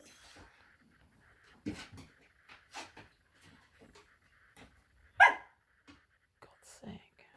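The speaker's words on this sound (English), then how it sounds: "Why is the dog crying?" A dog cries with a few short whining yelps, the loudest near the end, among quiet room sounds and soft whispered voices.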